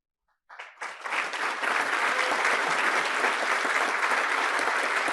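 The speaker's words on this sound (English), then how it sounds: "And the audience applauds, enthusiastically." Enthusiastic applause from a large audience bursts in after a brief silence and builds into sustained, dense clapping that continues steadily to the end.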